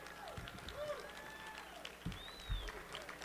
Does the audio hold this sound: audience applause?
yes